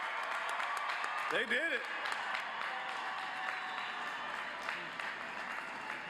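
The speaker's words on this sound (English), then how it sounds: "Let's give them a big round of applause." Applause for graduates at a university spring commencement ceremony fills the hall steadily, with a voice calling out over the crowd partway through.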